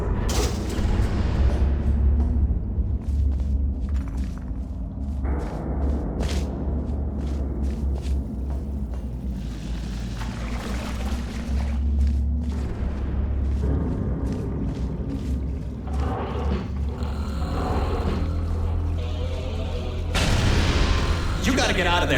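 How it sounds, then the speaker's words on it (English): Explosions and falling rocks in the puzzle game Portal Stories: Mel, a continuous heavy rumble with repeated booms and clattering debris throughout, under a character's talk. "The place is exploding. Rocks are falling everywhere"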